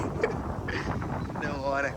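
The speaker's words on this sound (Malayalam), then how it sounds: "നല്ല കാറ്റുണ്ട് കേട്ടോ." Wind gusts buffet the microphone with a low rumbling roar while people talk over it outdoors at a sunflower field in Tamil Nadu.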